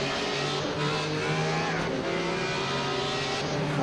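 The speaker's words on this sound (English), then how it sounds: "Try not to spin this big V8 Formula 1 engine powered E36 BMW up on the start." A BMW E36 fitted with a Judd V8 Formula 1 engine, at a race start in Assetto Corsa, holds a loud, sustained engine drone with shifting pitch and no voices.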